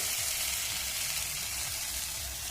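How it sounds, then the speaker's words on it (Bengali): Chicken pieces sizzle in a pan of well-fried spiced masala, a steady, close frying hiss with faint stirring underneath and no talking. "এবার আমি দিয়ে দেবো এর মধ্যে মাংসটা।"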